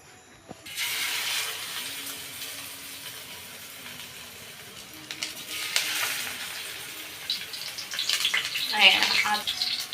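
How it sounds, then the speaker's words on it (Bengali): Fresh sea loitta fish being slid into hot oil in a wok, setting off a sudden sizzling hiss that keeps crackling and swells again near the end, with a voice talking over it at times. "এখন মাছটা ছেড়ে দেওয়া হবে"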